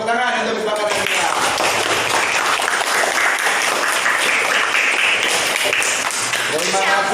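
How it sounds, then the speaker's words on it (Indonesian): A classroom of students breaks into loud sustained applause, dense clapping from many hands with voices calling out at the start and end. "Oke, tepuk tangan untuk kesepakatan kita."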